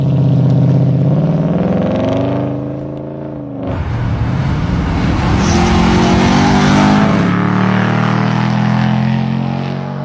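A Mercedes B55 AMG's naturally aspirated 5.5-litre V8 revs hard, pitch climbing and dipping, then after a brief lull roars loud and close again with a rough, rising growl.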